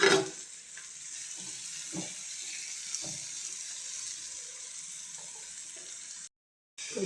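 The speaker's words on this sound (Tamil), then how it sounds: "வெங்காயம் கேரட் போட்டு நல்லா எண்ணெயில் ரோஸ்ட் பண்ணலாம்." Onions and carrots sizzle steadily in hot oil in a pan, with a faint continuous frying hiss and a few soft stirring clacks, then a brief cutout near the end.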